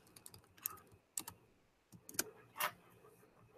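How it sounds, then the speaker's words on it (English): A question being typed on a computer keyboard, quiet close-up clicks coming in short irregular bursts of keystrokes with brief pauses between them. "So we'll just type a random question today."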